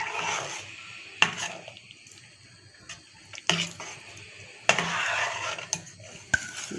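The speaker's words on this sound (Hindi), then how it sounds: "मैं इनको डाल के ज़रा गाजरों को भी पकाऊंगी" Carrots being cooked and stirred in a pan for kheer, with bursts of sizzling and scraping broken by sharp metal clinks and quieter gaps, close by.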